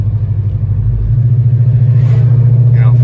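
A car with a 5.7 engine on .295 tires accelerates hard, a loud steady low engine rumble with pulsing rhythm building slightly, tire noise faintly under it, no talking.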